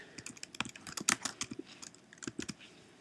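Computer keyboard keys clicking as the Enter key is pressed, a quick irregular run of light, close taps, fairly quiet, with no talking.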